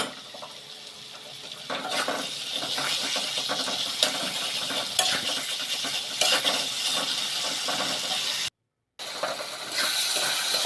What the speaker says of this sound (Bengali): যতক্ষণ ভালো করে ফ্রাই না হয় ততক্ষণ আমি নাড়ব, ফ্রাই করে নেব।